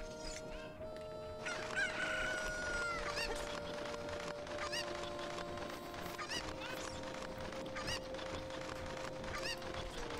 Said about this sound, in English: I think the last chicken is up here.